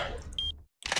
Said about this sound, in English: that beeping sound you heard, that is the transmitter parts for the good ending.